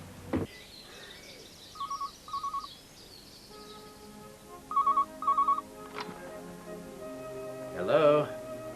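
A telephone rings in two short double bursts, the second pair louder, over a quiet room, with a faint voice and a click near the end.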